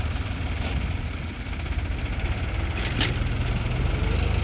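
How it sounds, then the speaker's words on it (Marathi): A tractor engine runs in a farm field where land is being ploughed. It makes a steady, low, idling rumble at moderate volume with faint higher noises over it and no talk. "वर एक ट्रॅक्टर चालू आहे."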